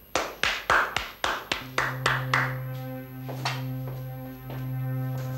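Several loud, distinct hand claps in a slowing, uneven rhythm that fade out, followed by a sustained musical drone and hum.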